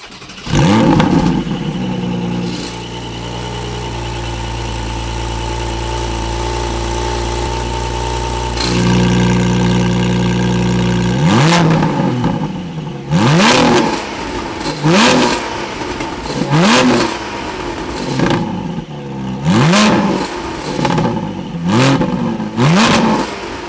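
Porsche 718 Cayman GT4 with an Akrapovic exhaust starting up, settling into a steady idle, then blipped through a series of sharp, loud revs in quick succession, close by with no talking.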